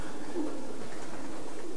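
Racing pigeons at a one-loft racing facility give soft, low cooing calls, steady and fairly close, with no talking.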